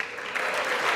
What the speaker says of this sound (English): Now let's let the applause go.